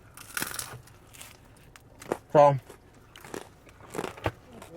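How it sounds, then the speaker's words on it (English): Crunchy bites and chewing on a Brooklyn pizza slice, heard close to the mic as scattered crisp crackles between pauses, with one louder sharp bite in the middle. "I have the mic right on me, so excuse the crunching"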